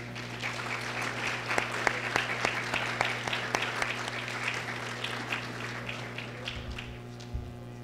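A fundraiser audience claps for board members and directors, with a sustained round of many hands and individual claps standing out. The clapping thins toward the end over a steady background hum.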